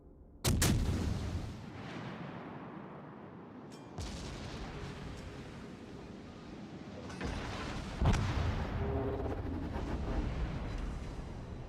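Naval gunfire from an enemy warship in a World of Warships-style game, with sharp heavy booms at intervals, each followed by a long rumbling decay beneath a steady low engine and sea hum.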